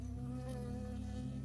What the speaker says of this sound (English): I got stung by a bee.